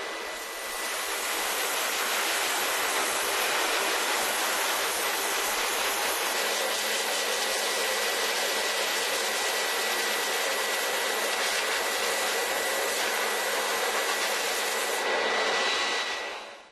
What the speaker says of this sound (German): Mit Druckluft und einem gewöhnlichen Haarföhn belebt Steffen Lessle die feinen Federn, um sie so beim Trocknen wieder aufzuplustern